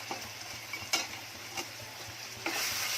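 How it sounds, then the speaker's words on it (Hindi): Prawns fry in oil with onion and tomato in a pan for a Konkani prawn dish, a soft steady sizzle broken by a few sharp stirring clinks and scrapes of a utensil, fairly quiet and with no voices. "अब इसमें झींगे डाल रही हूँ। ये प्याज में झींगे फ्राई होती है"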